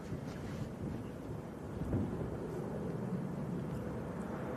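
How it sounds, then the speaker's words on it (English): A Loganair Embraer jet takes off at Manchester Airport, heard as a steady, broad, distant roar that swells slightly partway through. "Now what's this getting airborne, Tom? Logan Air Embraer?"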